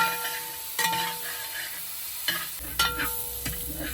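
Finely chopped tomatoes and onions sauté in a pan for a kadai mushroom gravy, with a soft close sizzle broken by several sharp spoon clacks and scrapes against the pan.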